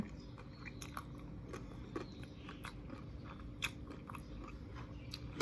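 Someone eats a crunchy som tam papaya salad with fresh shrimp up close, giving scattered bites and crunches over a steady low background hum.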